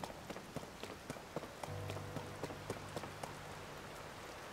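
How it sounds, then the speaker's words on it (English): Steady rain falls in the video game Zelda: Tears of the Kingdom, a soft continuous patter with scattered drop ticks and a low droning tone underneath, no talking. "And it's raining."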